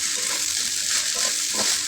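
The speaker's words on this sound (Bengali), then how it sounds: "কথায় কথায় আমার পাট শাকটা ভাজা হয়ে গেল।" Jute leaves sizzle and crackle in a hot pan, with spatula scraping and stirring close by.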